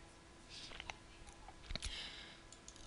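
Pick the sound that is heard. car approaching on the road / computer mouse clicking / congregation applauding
computer mouse clicking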